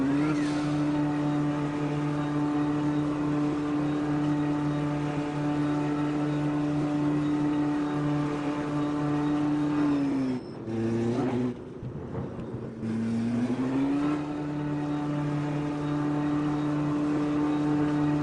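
Metal Moro AJR Honda P1 prototype race car lapping Interlagos in the Automobilista 2 racing game, its engine droning at a steady high pitch, then dropping briefly as it brakes and downshifts before revving back up, loud and continuous with no talking.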